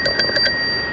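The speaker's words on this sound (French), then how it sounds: "Une belle sonnette hollandaise." A Dutch bicycle bell rings four quick bright strikes close to the microphone, with nothing else sounding around it.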